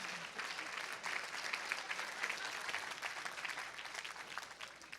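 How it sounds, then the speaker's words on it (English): A room of listeners at a Rotary Club of Tulsa meeting claps in a steady round of applause, fairly distant and sustained for several seconds before easing off. "A round of applause for the guys."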